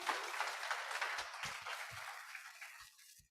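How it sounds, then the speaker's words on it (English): Audience applause during a communication presentation, a dense wash of clapping that stays steady and then fades out near the end, fairly quiet with no talking over it. "Applause for Talita."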